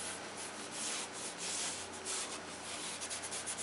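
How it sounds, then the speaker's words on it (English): Brush scrubbing paint across a mountain scenery backdrop, a close, steady rasping swish in repeated back-and-forth strokes, with no voices. "Now you should really scrub this to thin out the paint"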